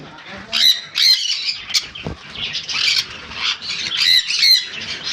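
Yellow-sided conure parrots squawk repeatedly in a bird shop, harsh bursts coming close and loud in irregular clusters, with a voice speaking underneath.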